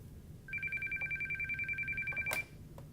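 Dialing tones on an NEC SV9100 office telephone, a quick run of short evenly spaced beeps forming one continuous pulsing sequence over about two seconds, faint and clear against quiet room hiss.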